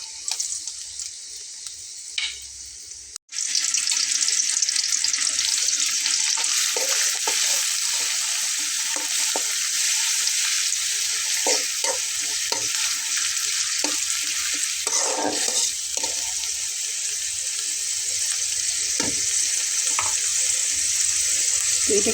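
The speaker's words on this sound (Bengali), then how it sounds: "তো এটাকে একটু হালকা পেঁয়াজের গন্ধটা চলে যাবে এরকমভাবে ভেজে নেব।" Onion paste and then garlic paste fry in a generous amount of oil, a loud steady sizzle with scattered stirring clicks and scrapes after a brief quieter start.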